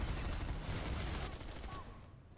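Rapid bursts of automatic gunfire crackle in the Planetside 2 game, loud and dense at first, then thinning and trailing off toward the end.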